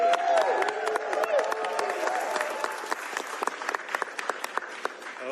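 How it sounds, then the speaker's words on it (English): A crowd applauding at a Washington state bill-signing event with dense, steady clapping that gradually thins out, with a few scattered sharp claps near the end. "Give a round of applause to Speaker Jenkins for her leadership."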